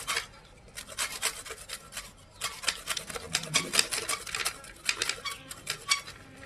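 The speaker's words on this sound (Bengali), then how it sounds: "এইভাবে একের পর এক সবগুলো লেবুর ছালগুলো ছাড়িয়ে নেব।" Lemons being scraped to strip their green peel for a sour lemon pickle, a close, dry rasping in quick repeated strokes with brief pauses, no voices.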